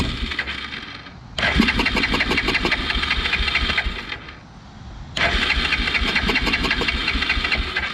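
A Yamaha Grizzly 350 4x4 ATV engine sputters to life, revs with a rattling, knocking drone for a few seconds, dies back briefly, then catches again and runs steadily.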